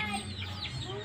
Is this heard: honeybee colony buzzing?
no